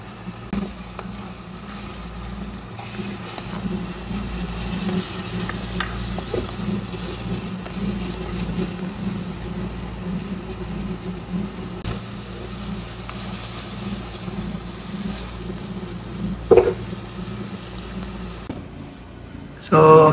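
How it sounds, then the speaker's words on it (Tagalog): Egg being stirred into sautéed wax gourd in a pan, a steady sizzle with soft stirring scrapes running throughout and a brief clatter near the end. "Lagyan na natin yung ating itlog. Tapos haluin lang natin."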